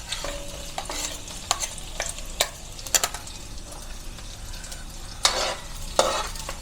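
Garlic fries in hot oil with a soft continuous sizzle, broken by several louder scraping stirs of a utensil against the pan, close up and without talk.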